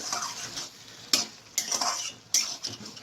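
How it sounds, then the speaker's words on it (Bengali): Malabar spinach with a pinch of salt sautéing in a pan, a close sizzle under a few sharp spatula scrapes and clinks against the metal, louder bursts at intervals. "এবার এটাকে আমি জাস্ট কষিয়ে আর একটুখানি টানিয়ে নেব"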